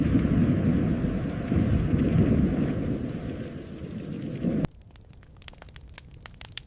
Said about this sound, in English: The storm had begun.